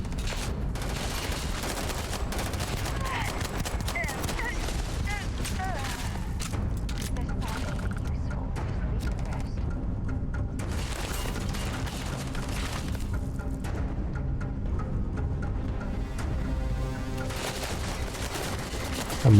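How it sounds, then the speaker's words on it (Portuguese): Heavy gunfire in the video game Starfield, with dense bursts of shots and automatic fire filling the whole stretch at a loud, constant level while someone talks over the combat. "O tiro não chega lá, mas do cara chega aqui"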